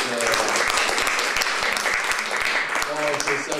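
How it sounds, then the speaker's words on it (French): An audience claps in sustained, dense applause at a cultural event, with a voice speaking over the clapping. "dont je salue Christophe Elliot, que je dois applaudir"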